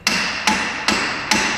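Four evenly spaced heavy hammer blows strike the end of a 1997 Subaru Legacy front axle, each a loud, close metallic bang with a short ringing decay.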